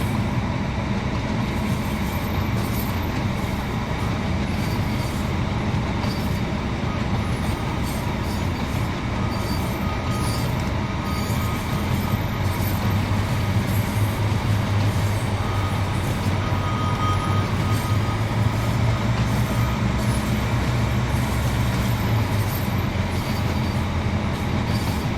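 Class 150/2 diesel multiple unit running steadily on the branch line from St Erth to St Ives, a continuous low engine drone and rolling rail rumble holding level throughout with no talking.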